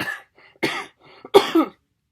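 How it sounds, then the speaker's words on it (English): A few dry, close coughs in short bursts, with brief pauses between them, then silence. "Will you believe this is the first time I coughed all day?"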